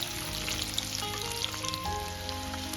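Potato pieces frying in hot oil over a high flame give a steady, dense sizzle with crackling pops throughout. A low hum sits underneath, and no one speaks.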